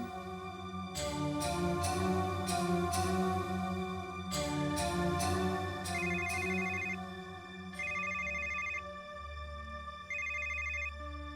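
A telephone rings with a repeated electronic ringtone, loud bursts of melodic tones in a steady pattern, switching to a higher, thinner warbling ring toward the end, with no talk over it.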